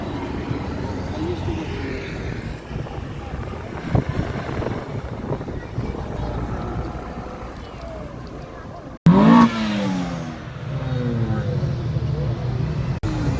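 An Opel Cup convertible pulls out at a Setúbal car meet, its engine revving hard in loud, rising bursts up close after a stretch of crowd chatter and wind noise.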